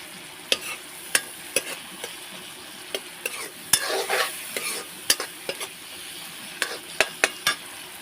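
Vegetables frying in oil in a kadhai, with a soft continuous sizzle and sharp, irregular spatula scrapes and taps against the metal pan, close and quiet.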